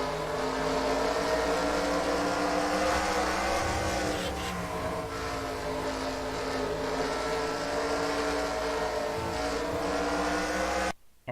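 Onboard engine of race car 23 driven by Ace Garcia, a loud sustained roar with shifting revs through gear changes, heard close up until it cuts off abruptly at the end.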